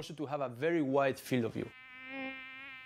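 A housefly gives a thin sustained buzz, steady and fairly close, rising slightly then settling, heard alone after a short stretch of wavering voice-like tones.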